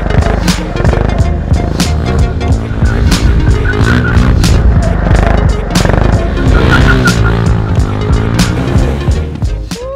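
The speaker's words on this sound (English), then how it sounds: "Man, those drifts are so fun." A Rokon motorcycle drifts on loose ground with skidding tires, its engine droning loud and steady throughout, broken by repeated scraping bursts and no talking.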